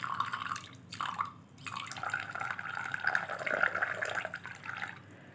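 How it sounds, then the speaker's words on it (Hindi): Hot water poured into a container, a steady splashing, trickling stream running close and fairly quiet for about five seconds, with brief dips in flow. "पहले मैं ले लूँगी गर्म पानी"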